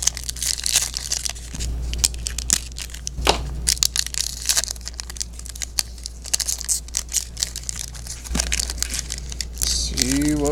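A Spider-Man Archives trading card pack wrapper is torn and crinkled open in a series of crackly rips and crunches, loud and close, with a voice talking in places.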